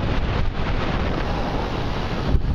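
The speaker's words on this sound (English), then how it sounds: "I don't know how much of the wind you can hear this or not" Wind buffets the microphone of a camera on a moving bicycle, a loud, steady rumbling roar with gusty swells and no other sound standing out.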